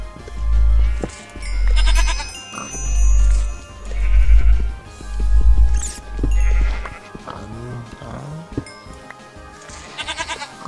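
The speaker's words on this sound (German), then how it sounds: "die Ziege macht einen Lärm" Goat in the Minecraft game bleating repeatedly, about six loud rhythmic bleats spaced roughly a second apart, then quieter game sounds at the end.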